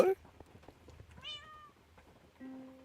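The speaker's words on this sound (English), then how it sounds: "Cat?" A cat in a Minecraft modpack game meows twice, a rising-falling meow midway and a shorter one near the end, fairly quiet over faint game clicks.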